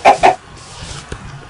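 Two short, sharp clucks from a Minecraft chicken come right at the start, close and fairly loud, followed by quiet low game ambience.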